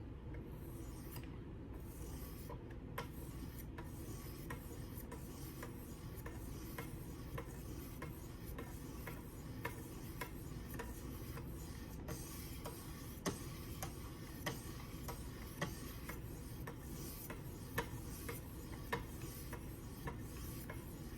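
Quiet, steady rasping strokes of a Kershaw Lucha knife blade being sharpened on fine 1.4 and 0.6 micron stones, a continuous scraping texture with faint rhythmic clicks and no talk.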